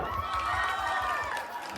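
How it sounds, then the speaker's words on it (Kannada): A crowd at a Dandiya night event cheers and applauds for the officials in a sustained, boisterous swell, with shouting voices over the clapping. "ಅಧಿಕಾರಿಗಳಿಗೆ ಒಂದ್ಸರಿ ಜೋರಾದ ಚಪ್ಪಾಳೆ"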